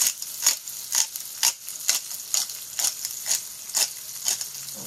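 Delicata squash searing in a hot pan, close sizzling broken into rhythmic bursts of about ten pulses as pieces shift, with no voices.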